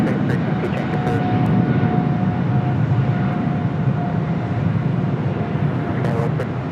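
A large airliner rolling down runway 25 right at Los Angeles International Airport for takeoff, a loud, steady engine roar holding throughout with a faint high whine and no talk over it.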